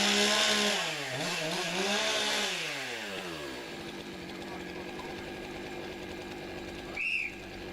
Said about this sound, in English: Ready to start the saw, get it up to temperature, and we are ready to go racing.